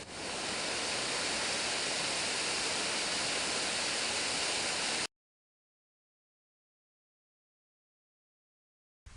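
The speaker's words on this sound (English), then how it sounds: "I'm at this really nice waterfall." A waterfall beside country lanes in Somerset gives a steady, loud, close rushing roar with no talk. It cuts off abruptly about halfway through, leaving near silence.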